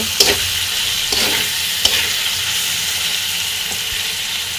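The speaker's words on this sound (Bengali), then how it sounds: "চিংড়ি মাছটাকে মশলার ভিতরে ভালোভাবে ভেজে নেব" Prawns fry in spice masala in a pan, sizzling loudly and steadily up close, with a few crisp spatula stirs knocking through the hiss.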